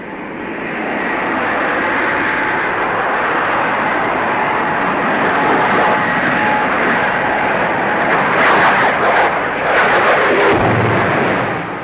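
A de Havilland DH-113 Venom twin-seat night fighter jet roars past at an air show, a loud, steady broadband jet rush that swells and churns throughout.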